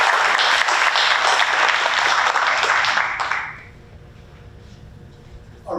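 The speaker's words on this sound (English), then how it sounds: "Let's give another round of applause and celebrate the wonderful job that our principals have done" Steady audience applause at a school district meeting celebrating principals, full clapping for about three seconds that quickly fades to quiet room tone, followed by a short sound at the end.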